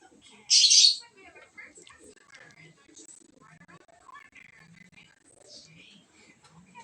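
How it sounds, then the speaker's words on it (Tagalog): A pet lovebird gives a single loud, shrill chirp near the start, followed by faint scattered lovebird chirps and background voices. "At maingay ang ating mga ibon, alagang ibon. Ang ating mga lovebirds."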